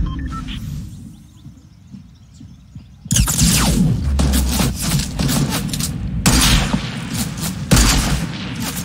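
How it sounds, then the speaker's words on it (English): Gunfire rattles through an online multiplayer shooter, first muffled, then loud, dense bursts of shots and booms from about three seconds on, continuous and close with no talk. "Holy shit, you shot him"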